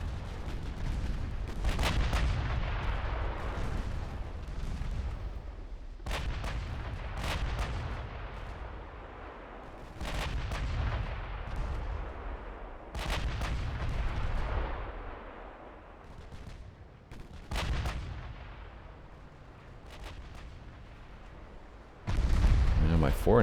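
Naval guns fire at a cruiser in the naval battle game Ultimate Admiral Dreadnoughts, with heavy booming salvos repeating every few seconds. A voice comments throughout, and a louder blast comes at the end.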